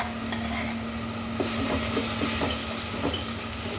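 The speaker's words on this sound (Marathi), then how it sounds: "आता गरम गरम तेलामध्ये पहा टाकायचं आहे आपल्याला कांद्याची पेस्ट कांदा लसूण अद्रक" Onion, garlic and ginger paste hits hot oil for pav bhaji, giving a dense, constant crackling sizzle with a low background hum and a few light taps.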